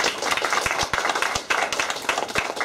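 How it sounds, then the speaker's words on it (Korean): Audience in a church claps together, a dense steady patter of hands with a few sharper individual claps standing out, fairly close and continuous throughout. "하나님께 박수 한번 하죠."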